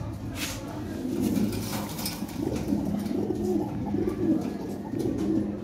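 Lahore pigeons coo in a repeated rolling rhythm, a pair in breeding condition among other birds, with soft wing flutters now and then against a steady close background.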